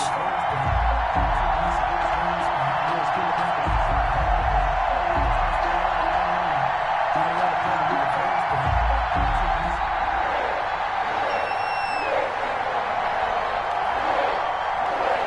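Sold-out stadium crowd in Cincinnati roaring for the Bengals in an EA Sports NFL game, a continuous broad cheer holding steady throughout, with a brief whistle-like cry near the end.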